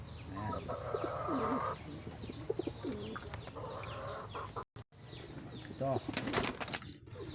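Pigeons in a coop coo in low repeated bursts, joined by clucking fowl and short wing flaps, under a busy outdoor background with a few sharp knocks and no talk.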